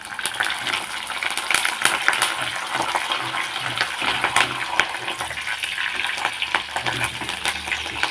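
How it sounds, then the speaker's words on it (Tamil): Garlic and curry leaves frying in hot oil for a spicy fish curry, a dense continuous sizzle with occasional stirring clicks, close up and fairly loud. "பூண்டு வதங்கிடுச்சு."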